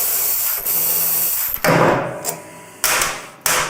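Socket wrench with an extension breaking loose 12-point bolts near a motorcycle fork: several loud sharp cracks and metallic clanks, separated by brief ratchety rattles, close by with no voices.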